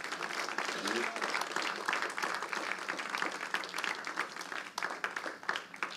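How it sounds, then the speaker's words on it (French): A church congregation applauds in a sustained, uneven wave of clapping that swells and fades, with voices faintly mixed in beneath it. "J'aimerais peut-être que l'Église applaudisse toutes celles et ceux qui sont levés, comme un signe d'encouragement."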